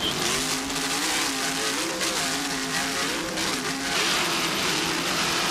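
Offshore racing powerboat, a Skater driven by twin 950 hp Northwest inboard engines with Mercruiser drives, roaring loud and steady with rising and falling engine pitch, close by with no voices.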